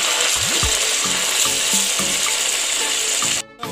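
Beef fillet and onions sizzle loudly in a hot pan while a utensil scrapes and stirs through them in a few short strokes, the frying steady and close, with a brief dip near the end.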